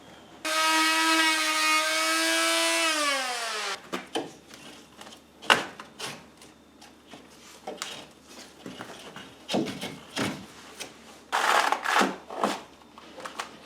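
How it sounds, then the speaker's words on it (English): Cutting an electrical box opening in drywall: after a steady electronic tone fades out, a hand saw rasps through the board in short, irregular strokes, close and moderately loud, with no talking. "Let's go ahead and cut this hole."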